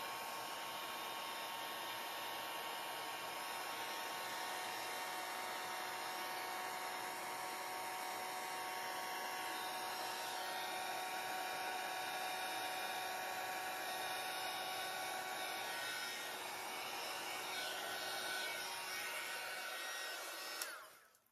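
A handheld heat tool blows a steady, close airy whir over resin art for about twenty seconds, then cuts off abruptly at the end.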